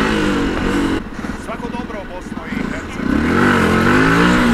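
Motorcycle engine revving hard as the rider tries to lift the front wheel into a wheelie, a loud close roar that dips briefly then surges again, with a rider talking over it.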